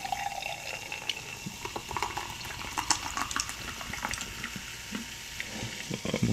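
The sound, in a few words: pouring pineapple coconut carbonated water into a cup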